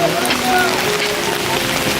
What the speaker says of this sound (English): Yeah, it is pouring.